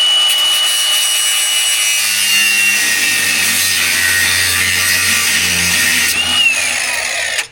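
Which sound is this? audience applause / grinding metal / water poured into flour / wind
grinding metal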